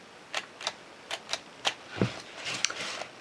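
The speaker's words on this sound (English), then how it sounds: "Stop down preview." A Minolta SRT film camera's stop-down preview lever and mechanism give a series of small, sharp clicks spaced about a third of a second apart, close by, followed by a slightly louder clunk and faint rattling handling noise.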